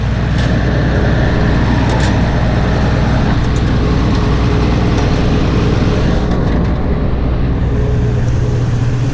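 A combine harvester engine runs during a soybean harvest, a loud, steady, deep rumble heard from right beside the engine, with faint knocks and rattles over it.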